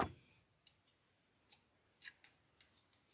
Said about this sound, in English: Scissors, scissors, scissors.